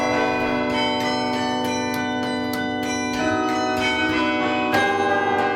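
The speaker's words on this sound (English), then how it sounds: "hundreds of spectators gathered to listen to a special ringing of the bells" The Berkeley Campanile carillon rings for its 100th anniversary, bells striking one after another in a steady melodic run with long overlapping resonance, loud and clear outdoors.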